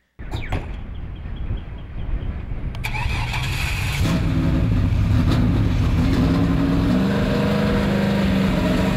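A number 47 race car engine at M40 Speedway turns over with a few sharp bursts, then settles into a loud, steady roar that builds and holds, close by.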